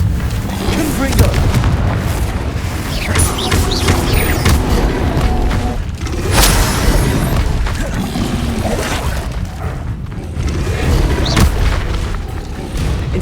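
Confringo fire spell blasts in Hogwarts Legacy on PS5, a dense run of heavy booming explosions one after another, with character voices calling out between the blasts.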